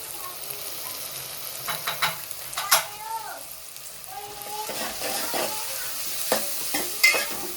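Masala with green garlic sautés in a pan with a low continuous sizzle, while a spoon stirs and scrapes it in irregular clanks and taps. Someone speaks faintly in the background.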